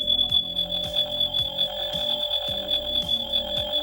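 A steady electronic beeping tone from a button on a Spin Master Bat Tech Batcave toy rings out with a repeating pulsing pattern beneath it, constant and fairly loud.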